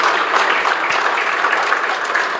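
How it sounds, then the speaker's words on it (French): A dense, steady wash of audience applause fills a short stretch at a World Press Freedom Day ceremony in the DRC, many hands clapping together at an even level with no voices rising above it. "Elle mérite aussi des applaudissements."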